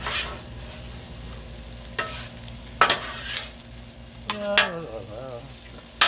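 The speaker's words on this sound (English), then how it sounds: "now you get to watch me griddle" Beef stir fry with noodles sizzles on a Blackstone griddle, with a steady frying hiss and sharp scraping and stirring clatters from a spatula at irregular moments, close and distinct with no talk.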